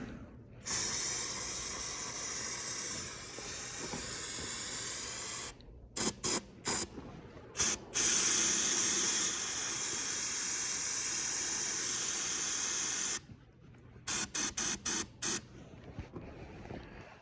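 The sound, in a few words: spraying ether starting fluid on a corn planter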